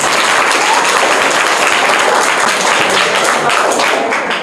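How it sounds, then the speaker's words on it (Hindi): Loud, dense audience applause for the first-place winner of a general-knowledge quiz competition, a steady wash of many hands clapping close by that stays strong and even throughout. "फर्स्ट विजेता बनती है ये, इनके लिए जोरदार तालियां।"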